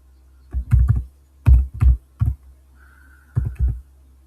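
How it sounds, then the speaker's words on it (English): Fast typing on a computer keyboard, close and crisp, with bursts of rapid key clicks separated by short pauses, a faint low hum and a brief tone in the background. "Don't mind me, I'm a very fast typer, so I make mistakes sometimes."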